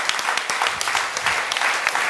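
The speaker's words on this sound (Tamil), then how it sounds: "கைத்தட்டி சொல்லுங்க," A church congregation claps together during a Tamil fasting prayer service, a steady crowd patter of many hands filling the whole moment at close range.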